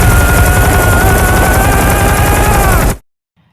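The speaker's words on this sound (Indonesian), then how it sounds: "Komandannya menembakkan peluru untuk mengalihkan perhatian lawan atau menghilangkan jejak posisi sniper" Gunfire from a film scene as a commander shoots to distract enemies and hide a sniper's position: loud, dense, continuous automatic-sounding shots with a heavy rumbling bed, running steadily for about three seconds before cutting off abruptly into silence.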